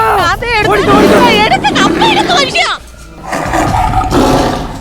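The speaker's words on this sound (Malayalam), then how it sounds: "അത് ഒറിജിനൽ കടുവാടി, ഓടിക്കോ." A loud, deep tiger roar, rising and falling for a few seconds, with voices and crowd noise around it.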